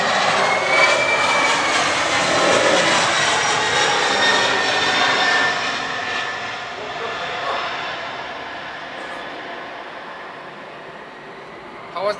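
Airbus A319 engines on landing at Paro runway 15, a loud steady jet roar with a high whine that slowly fades and settles lower toward the end; faint voices may sit underneath.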